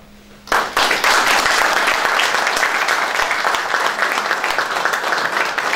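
Warm audience applause at a public panel talk, bursting in suddenly and then holding as steady, dense clapping from a large crowd with no voices on top.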